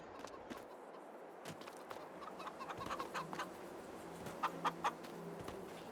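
Chickens cluck softly in the Farming Simulator 22 video game, scattered short calls over a low farm ambience, with a few louder clucks near the end and no talking.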